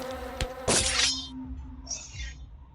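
A sharp crash gives way to a bright, high buzzing swarm of bees in a video game, then a brief fainter buzz, synthetic and close.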